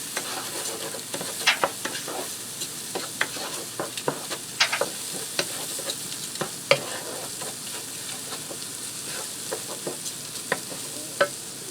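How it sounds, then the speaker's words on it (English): Raw white rice toasting in a pan is stirred, giving a quiet, continuous dry sizzle broken by frequent light scrapes and clicks at an uneven pace, close by and with no talking. "I'm going to add in a cup of white rice. This is raw rice."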